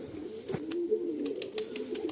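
Kaldama pigeons coo softly in a loft, a low, warbling murmur repeating in short rolling phrases, close and fairly quiet with no voices.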